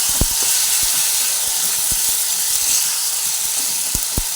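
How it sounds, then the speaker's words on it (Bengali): Grated tomato frying with spices in a pan, a steady loud hiss and sizzle with scattered low pops and spatters throughout. "টমেটোটাও দিয়ে ভেজে নিচ্ছি সব একসঙ্গে"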